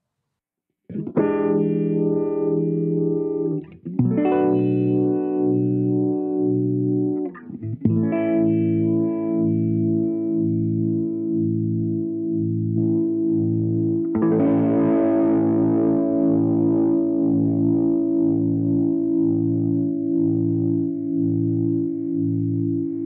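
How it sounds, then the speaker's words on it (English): Sustained electric guitar chords through a Boss RT-20 Rotary Ensemble pedal in uni-vibe mode, with a swirling, throbbing modulation effect, a few chord changes, then a brighter ringing section. "mode 4 adds in some of that uni-vibe sound"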